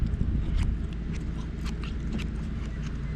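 Fresh cheese curds chewed up close, a dense, squeaky, crunchy mouth sound with irregular bites over a steady close-miked rumble, no talking.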